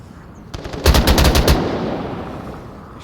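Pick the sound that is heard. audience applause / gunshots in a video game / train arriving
gunshots in a video game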